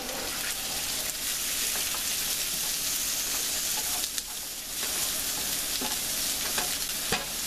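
Carrots and ginger fry hard in a hot pan for a yakisoba dish, giving a steady, loud sizzle all the way through with a few stirring scrapes and clinks.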